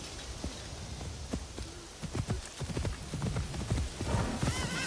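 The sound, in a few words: horse hooves walking, video game Assassin's Creed Shadows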